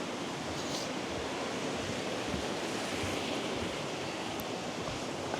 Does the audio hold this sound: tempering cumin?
no